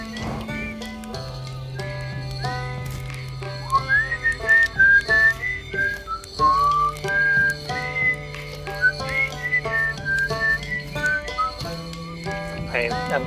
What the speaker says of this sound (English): but I am able to whistle